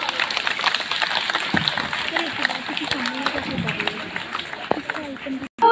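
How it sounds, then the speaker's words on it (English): Steady applause from a school audience greets a student speaker at an interhouse English speech competition, continuous and moderately loud, with voices talking over the clapping before a brief drop near the end. "Welcome her with a huge round of applause."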